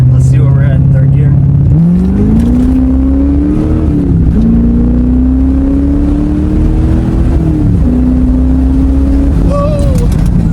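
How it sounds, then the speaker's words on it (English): A 1989 Corvette V8 accelerates hard through the gears, engine pitch climbing in long rising sweeps with distinct drops at each upshift, loud and close from inside the car. "Let's see where we're at in third gear."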